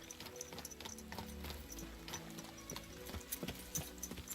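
Horse hooves clip-clop in the medieval game Kingdom Come Deliverance 2, a steady run of quiet rhythmic hoofbeats with faint creaking tack mixed in.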